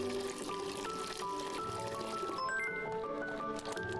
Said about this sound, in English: Large water bowl. And then let's get some water.